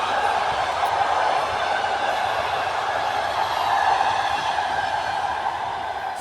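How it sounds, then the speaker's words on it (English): Long-distance train rolling past near a village, a steady broad rumble and rush that holds evenly throughout with no clear start or end, no voices. "Oh, this is a train. I think it's a long distance train."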